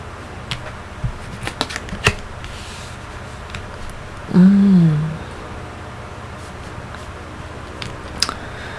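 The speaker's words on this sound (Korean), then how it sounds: "타로 카드 같이 열어볼게요" Tarot cards handled and laid out on a table for a weekly zodiac reading, a series of short crisp taps and flicks with one brief louder rustle midway, close and without talk.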